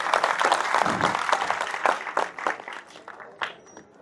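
An audience at an annual community association conference in 2024 claps to welcome a guest, a dense burst of close applause that gradually thins and fades over a few seconds.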